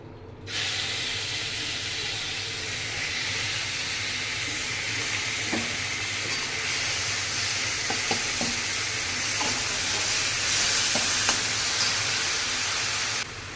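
Pointed gourd seeds sizzling as they hit hot oil in a pan, a steady frying hiss with a few soft stirring clicks, close and alone with no talk.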